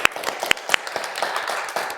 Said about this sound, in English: Please join me in applauding Aida